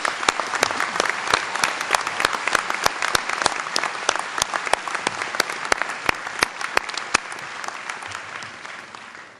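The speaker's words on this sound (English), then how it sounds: "Please join me in giving them a well-deserved round of applause for their outstanding accomplishments." Graduates at a Carnegie Mellon commencement ceremony receive a sustained round of applause from a large crowd, dense steady clapping with sharp individual claps standing out, fading slightly toward the end.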